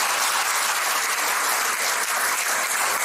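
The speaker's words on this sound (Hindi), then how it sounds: "एक बार जोरदार तालियां इनके सम्मान के लिए।" An audience applauds steadily and loudly, a dense wash of clapping from start to finish with no voices.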